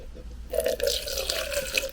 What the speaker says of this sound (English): It's odorless thinner. I'll pour it in here.